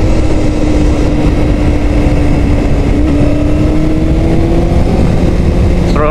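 A 2005 Honda CBR600RR sport bike engine drones loudly and steadily during a test ride, its pitch slowly rising and shifting as the throttle opens, with heavy wind rumble throughout.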